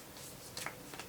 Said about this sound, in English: Alright, we'll give her a little shuffle.